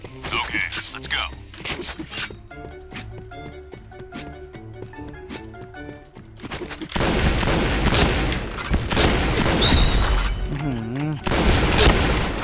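Gunfire in a first-person shooter on a deathmatch map, rounds hitting bulletproof glass that won't break; a dense burst of shots and impacts rings out after a quieter stretch of game music and sounds.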